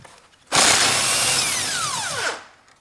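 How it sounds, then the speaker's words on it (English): Impact driver loosening a 12 mm bolt on a Toyota Corolla steering rack, heard as one loud, steady burst of hammering whir lasting about two seconds and dying off with a falling whine, close by and alone. "when I use a little bit longer bar and impact driver, I can open this bolt easily in that way."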